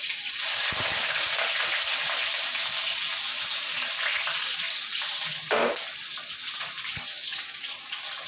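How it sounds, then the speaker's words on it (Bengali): Diced potatoes, chopped tomato, onion and green chilli frying in hot oil, giving a steady, loud, hissing sizzle that runs throughout with a few brief pops and crackles. "এই তেলের মধ্যেই আমি দিয়ে দিচ্ছি এই যে আলু কেটে রেখেছি, টমেটো কুচি রেখেছি, পেঁয়াজ কুচি আর কাঁচা লঙ্কা।"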